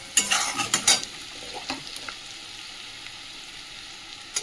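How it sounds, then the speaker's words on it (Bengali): A spoon stirs potatoes, onions and spices frying in oil, with a few quick scraping strokes at first, then a soft, steady sizzle that fades to faint. "দিয়ে একটু তেলে নেড়ে নিই।"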